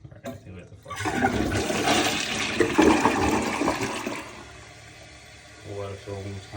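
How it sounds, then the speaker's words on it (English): A household toilet being checked for a leak during maintenance flushes loudly with a rushing roar of water for a few seconds, then quiets to a softer refill trickle while a person speaks nearby. "Alright, I think we have to flush it."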